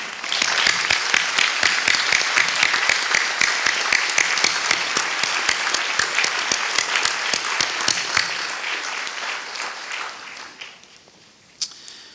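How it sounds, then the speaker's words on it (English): Graduation ceremony audience at Monash University Malaysia giving a long round of applause, a dense, steady clapping from a large hall that fades away after about eight seconds, leaving a few stray sounds. "show them your appreciation by a round of applause"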